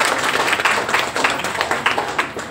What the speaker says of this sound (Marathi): एकदा सगळ्यांनी टाळ्या वाजवून अभिनंदन करायचं.